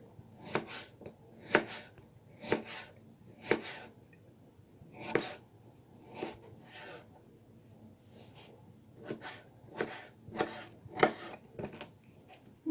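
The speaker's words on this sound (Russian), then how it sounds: "И нарезаю картофель." A knife cuts potatoes into sticks on a board in a home kitchen, with about twenty sharp, close chops coming in uneven bursts and short pauses, fairly quiet and with no talking.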